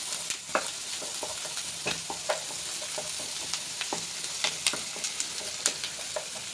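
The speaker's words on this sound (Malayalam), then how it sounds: "ഇതൊന്ന് വഴറ്റിയെടുക്കാം." Chopped onions, shallots and garlic sizzle steadily in a hot pan for tomato chutney, with a continuous frying hiss broken by frequent scraping stirs of a spoon, close up and with no talk.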